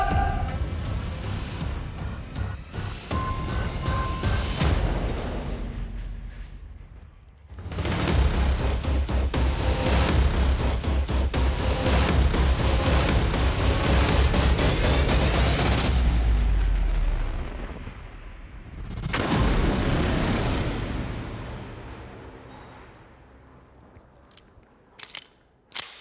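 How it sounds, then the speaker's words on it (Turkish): A rifle fired on a test range sends a bullet through a block of ballistic gel, giving loud, sharp blasts with long rumbling decays, two main bursts standing apart from quieter stretches. "Ahmet, silahından çıkan mermi balistik jeli delip geçti."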